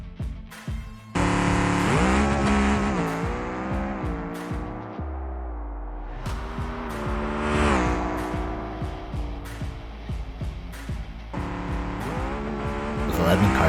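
A 500-cubic-inch naturally aspirated outlaw drag car in BeamNG launches and runs hard, its engine note climbing through shifts with a sharp break near the start, roaring loudly from start to end.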